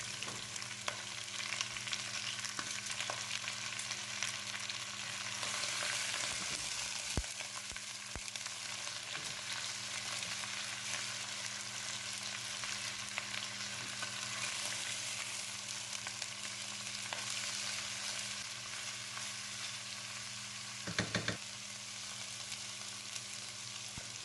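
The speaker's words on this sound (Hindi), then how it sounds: "इसे ऐड करके अच्छी तरह से भूनेंगे जब तक इसका कलर चेंज नहीं हो जाता।" About one kilo of mutton pieces sizzling and frying in masala in a pot, a steady close crackle with occasional stirring scrapes and no talking.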